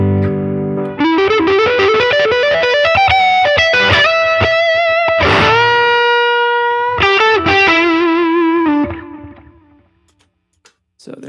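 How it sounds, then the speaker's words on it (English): Distorted electric guitar notes ring out through a Line 6 HX Stomp delay with chorus on the repeats, echoes shimmering and wavering, building layered tones before trailing off into near silence. "So there's our delay."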